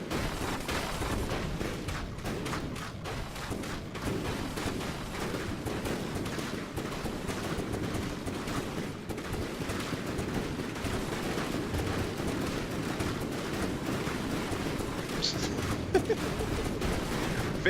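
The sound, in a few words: Gatling cannon fire in From The Depths video game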